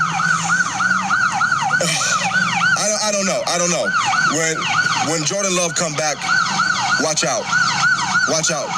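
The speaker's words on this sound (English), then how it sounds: "Excuse the sirens." Wailing emergency vehicle sirens sweep up and down continuously, loud and close, while someone talks over them.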